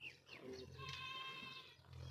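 A goat bleats in a pen or shed among other goats and their kids, one sustained harmonic call lasting about a second, close and clear over steady background noise and livestock commotion.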